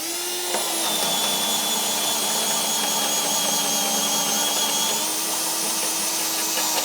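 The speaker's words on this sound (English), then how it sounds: "So I'm just gonna take the drill and I'm gonna drill right in the center of this stud right here." A cordless drill bores a hole into a wooden stud, running with a steady, loud high-pitched whine that dips briefly at the start and then holds constant under the load of drilling.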